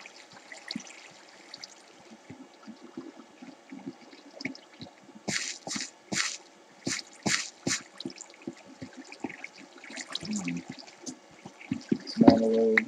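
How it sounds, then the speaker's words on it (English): Water dripping in a Minecraft cave: a run of sharp, separate drips in an irregular rhythm, moderately loud over low cave ambience, ending with a louder splash or thud. "That's the water we've been looking for."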